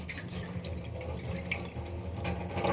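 Cauliflower being washed in warm salted water, close splashing and dripping water with soft handling noises, no talk.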